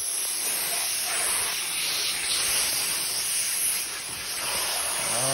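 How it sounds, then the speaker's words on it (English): A steady, loud hiss of water spraying onto a sanded surface inside a 1981 Ford F-150 cab, continuous and close, with no pauses. "Now we're just going to spray it down a little bit."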